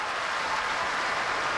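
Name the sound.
applause sound effect on radio show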